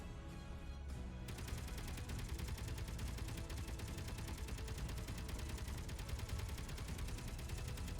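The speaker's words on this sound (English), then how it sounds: "He's gonna get a couple of shots off." Sustained automatic gunfire from Space Engineers, a dense, continuous rattle of shots that fills the whole stretch at fairly low level, starting after a brief quieter opening, with no talking.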